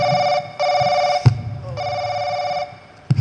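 A mobile phone ringtone goes off inside a church during a Sunday school meeting, a loud, steady electronic ring in repeating bursts with short gaps, close by, over low room murmur and a couple of thumps.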